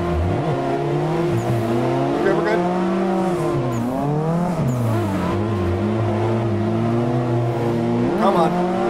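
Drift car in a racing video game, its engine revving and wavering steadily with tire squeal through a tandem run on Brooklyn Park, loud and continuous while someone talks over it.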